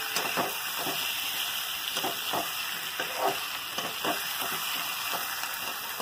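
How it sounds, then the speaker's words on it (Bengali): Eggs fry in a spiced masala in a pan, a continuous close sizzle and hiss with repeated soft scraping knocks from stirring. "ডিমটা কষার মধ্যে দিয়ে দিই, যে ডিমের মধ্যে মশলা টশলাগুলো সমস্ত কিছু ঢুকে যায়।"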